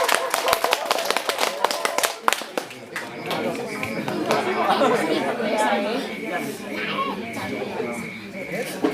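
An audience at a children's Bible scripture quiz in the village of Pajoreja, Nagekeo, claps in a brief burst of sharp hand claps at the start, which gives way to loud crowd chatter and talking.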